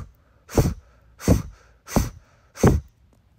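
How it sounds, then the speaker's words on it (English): Four strong breaths blown out through the mouth in a steady rhythm, each a loud close whoosh separated by short pauses, with no talking. "Then we're going to move to the blow breath, which is only through the mouth"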